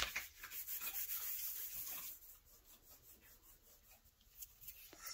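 A wooden Dutch door being trimmed by hand, giving a soft, uneven rasping and rubbing of wood in short strokes up close, fairly quiet, with no voice.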